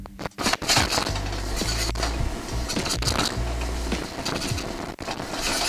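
Delicate crispy garlic noodles are tossed in a hot pan, giving close, continuous scraping and light clattering with a soft sizzle underneath, no voices.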